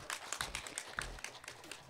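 Audience applause following a presentation at a medical business conference session: a short burst of many hands clapping in a steady, dense patter that fills the room without letup.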